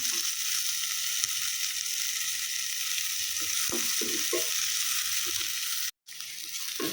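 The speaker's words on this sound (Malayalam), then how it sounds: "ഈ തക്കാളിയും കൂടെ ഒന്ന് വഴന്ന് വരണം" Tomatoes sautéing in a pan for a red chilli chutney: steady bright sizzling with intermittent soft stirring scrapes, close, briefly cutting out near the end, no talk.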